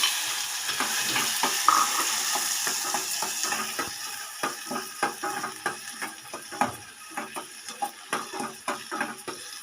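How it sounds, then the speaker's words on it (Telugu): Pineapple pieces fry in ghee in a pan, with a soft continuous sizzle under repeated spoon stirring and scraping that grows more rhythmic and clicky toward the end. "నెయ్యిలో కొంచెం వేయించాలి ఫ్రెండ్స్ చాలా బాగుంటుంది"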